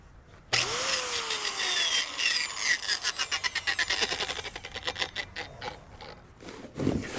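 A Harbor Freight angle grinder carving wood, starting abruptly with a loud whine that drops in pitch, then a rhythmic pulsing grind as it bites into the wood before easing off and revving again near the end.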